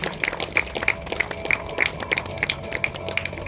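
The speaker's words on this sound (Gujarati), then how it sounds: "લીલાબેન દુલાભાઈ ઠાકરડાને જોરદાર તાળીઓથી આપણે સૌ વધાવી લઈએ" An audience at a district-level education innovation festival claps for an award recipient, a continuous patter of many hands with small bursts, moderately loud and without talk.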